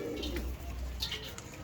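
A prized breed pigeon coos softly and repeatedly at close range, with faint chirps and low background hum.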